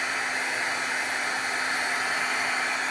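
Hair dryer blowing on a freshly made fall-colored card, a steady loud whooshing hum holding constant throughout with no pauses or voices.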